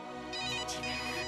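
Phone ringing with an incoming call from home, a loud electronic ringtone melody playing continuously through the brief moment with no voices over it.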